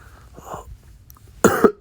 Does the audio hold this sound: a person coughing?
yes